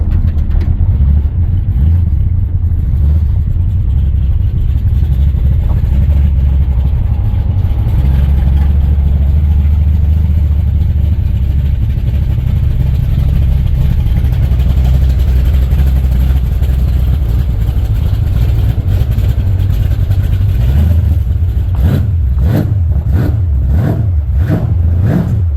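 A one-tonner tray truck with a whining rear differential drives along, its engine drone loud and constant, with the road noise rising and pulsing toward the end.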